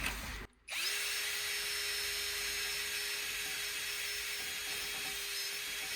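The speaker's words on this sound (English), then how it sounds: "You can clean the hub with a wire brush or a wire brush attachment in a drill." A drill spins steadily with a wire brush attachment grinding against a Mercedes E 220 W212 front wheel hub, a continuous close scrubbing whine after a brief pause at the start.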